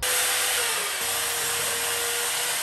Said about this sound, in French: la scie radiale va me faire économiser pas mal de temps